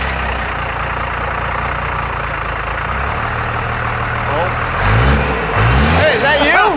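A Cummins diesel engine in a Cadillac is cranked in gear, with a steady rumbling churn and then louder revving surges near the end, while voices talk over it.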